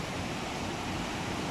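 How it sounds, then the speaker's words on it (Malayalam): Steady broadband rush of water falling at the Chimmini dam outflow by a 2.5 MW power station, a continuous roar filling the short clip with no voices. "അവിടെ അങ്ങനെ വെള്ളം വീഴുന്ന കാണാം."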